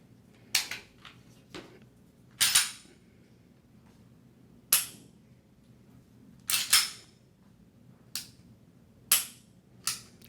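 Sharp clicks from a Taurus G3c 9mm pistol being dry-fired, trigger breaks and reset snaps in spaced pairs, about eight crisp close clicks over a faint room hum with no talking.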